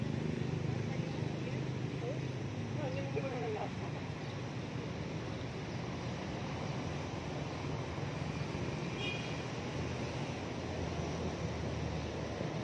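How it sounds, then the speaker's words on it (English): Steady wind rushes and buffets outdoors, a constant broadband roar with faint distant sounds beneath it. "But it is getting windy."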